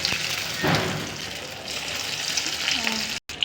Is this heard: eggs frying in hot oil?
yes